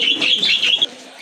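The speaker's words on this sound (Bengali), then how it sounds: "মাশাল্লাহ আরেক জোড়া কবুতর চলে আসছে" Pigeons for sale at a market give a short burst of throaty calls up close, with a few quick, warbling notes running together before fading.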